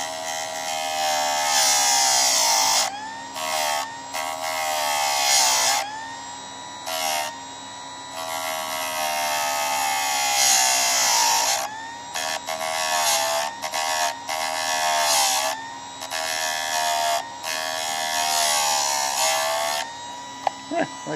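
A cheap electric chainsaw sharpener grinds a chain tooth in repeated bursts, its high whir rising and dropping with short pauses between passes, while someone talks nearby.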